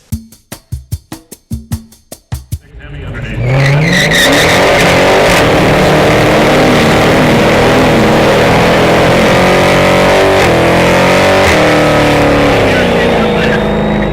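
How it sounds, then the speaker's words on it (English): A new Dodge Hellcat does a burnout, starting with a run of sharp engine blips, then a sustained loud roar of revving engine and spinning tires that continues to the end. "He knows how to do a burnout."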